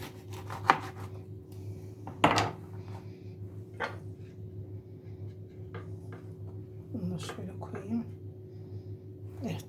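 A knife chops food on a board during breakfast preparation: a few sharp separate knocks and soft scrapes, fairly close, with quiet gaps between them.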